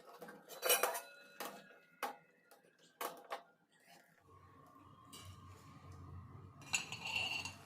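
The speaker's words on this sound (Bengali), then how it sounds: "এবারে একটা ছাঁকনি দিয়ে নুডলসটাকে সম্পূর্ণরূপে তুলে নিচ্ছি" A strainer lifts boiled noodles for veg hakka noodles out of a pot, with bright metallic clinks and clanks in quick bursts, then a low hum and a brief water-like rustle before more clatter near the end.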